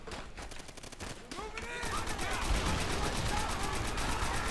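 Sustained gunfire in Call of Duty World at War, with rapid rattling bursts from several weapons building into a loud, continuous battle fusillade that grows denser after the first two seconds.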